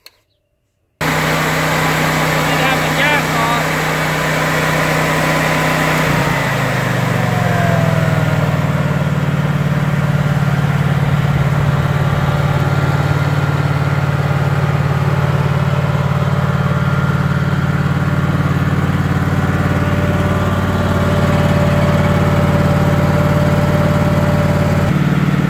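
A Honda EB10000 generator engine runs with barely ten hours on it, not fully warmed: a loud, close, steady hum that throttles up partway through to a higher, even drone and keeps running without pause.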